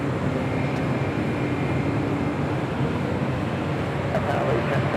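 Continuous engine roar of an airliner departing LAX for Phoenix, originally delivered to America West in 2000: a dense, steady rumble and hiss at moderate distance with no talk.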